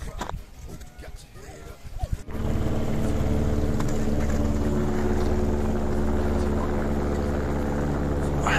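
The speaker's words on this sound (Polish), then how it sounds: "Helikopter leci." A loud, low rotor drone builds suddenly and holds steady as a helicopter passes close overhead in the winter High Tatras, with a few quiet voices at the start.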